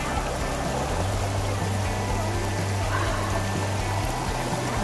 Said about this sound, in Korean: 물소리 너무 좋죠.